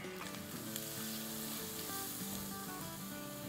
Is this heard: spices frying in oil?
yes